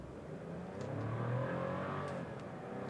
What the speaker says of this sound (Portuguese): o carro está em drive, vamos dar estoladinho e vamos sair.